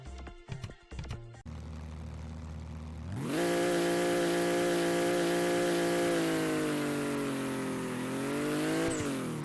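A drag race car in a racing game launches off the line: a short idle burble, a pause, then a loud, sustained engine roar climbing steadily in pitch as it accelerates, with no talk.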